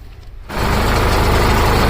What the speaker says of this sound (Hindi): ये सत्य प्रकाश है, ट्रैक्टर को घुमा रहे हैं दौरी करने के लिए।